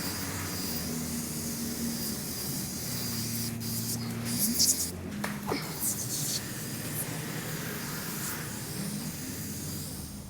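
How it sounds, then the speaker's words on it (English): Degreaser sprayed from a can under a riding lawn tractor, a few short hissing bursts midway over a steady low background drone. "I just sprayed degreaser under there."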